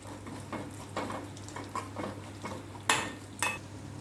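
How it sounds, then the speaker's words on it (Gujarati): Cashews, almonds, raisins and poppy seeds stirred and scraped in ghee in a pan with faint sizzling, punctuated by a few sharper metallic clinks near the end; no voices. "અહીંયા મેં કાજુ બદામ અને દ્રાક્ષને ખસખસ લીધા છે તે ઘીમાં આપણે ઉમેરી દેવાના છે"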